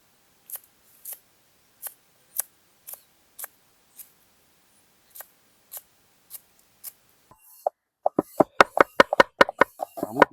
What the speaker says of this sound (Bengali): আজকে পেঁয়াজটা একটু অন্যরকম কাটা হচ্ছে